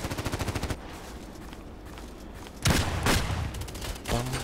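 Gunfire from the shooter game Contract Wars: a rapid burst of automatic shots at the start, then louder repeated shots and bursts later on, close and dominant, with no talk.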